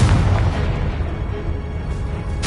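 The Confringo explosive spell in Hogwarts Legacy detonates as a loud, dense boom that fills the whole stretch with a rumbling blast, fading slightly before a sharp burst at the very end.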